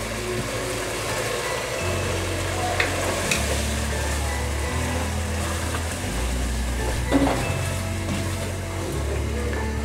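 Chicken karahi with yogurt cooking down in oil, a soft continuous sizzle and bubbling over a low steady hum from a nearby appliance, with occasional stirring clinks and no speech.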